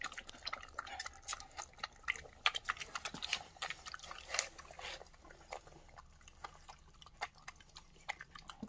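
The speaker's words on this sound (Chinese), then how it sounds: "狗宝宝也在吃啊" Young toothless puppies eat nearby, making soft wet chewing and smacking clicks in quick irregular bursts, fairly faint against a quiet background.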